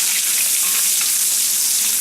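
Ginger hits a hot cast iron wok with a loud, dense, hissing sizzle that holds steady and close throughout, with no talking.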